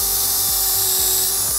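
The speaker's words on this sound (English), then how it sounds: "I'm drilling into this so there isn't a ton of blowout on the back" A power drill bores steadily through a workpiece for a vacuum table build, with a loud, constant high whine and a faint low pulsing from the spinning bit, no voices.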